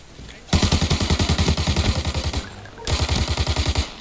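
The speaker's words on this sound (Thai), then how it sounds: "ข้างหน้ามีเสียงปืนนะครับ" Automatic gunfire in the shooter game Arena Breakout: two rapid bursts of loud shots, the first lasting about two seconds, a short gap, then a second burst, all close and dominant.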